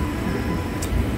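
Train at Roma Street Station in Brisbane, a continuous low rumble and hum filling the platform, fairly loud and steady, with no speech.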